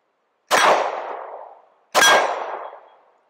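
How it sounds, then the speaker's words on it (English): Two sharp metallic clangs about a second and a half apart, each ringing briefly before fading, as a pistol magazine drops out and strikes down, close and loud against silence. "The magazine keeps falling down."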